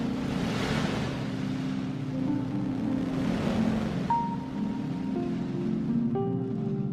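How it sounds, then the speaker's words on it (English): Sonification of the black hole V404 Cygni: a steady, calm wash of low droning tones with soft airy noise, sustained pitched notes gradually appearing and shifting over a continuous rumbling bed, no voices. "This is what it sounds like on the black hole?"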